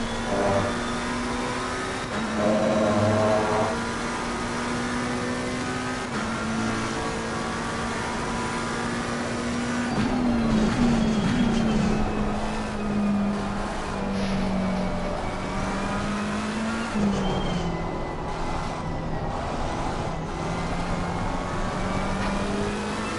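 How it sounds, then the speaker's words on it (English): A McLaren GT race car engine in Assetto Corsa Competizione at Silverstone drones loudly and steadily, its pitch rising through gears and dipping on shifts and braking, sustained throughout. "I just love the way the McLaren sounds"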